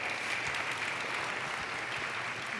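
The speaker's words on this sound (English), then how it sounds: "Can we have another round of applause for the Utah Poet Laureate?" An audience claps for the Utah Poet Laureate at a conference keynote, a dense, steady round of applause sustained evenly throughout, moderately distant.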